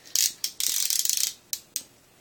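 Sharp ratchet clicks from a torque wrench tightening an AR-15 barrel nut to 30 foot-pounds: a few single clicks, then a quick run of rapid ratcheting, and two more isolated clicks, close and clear with no talking.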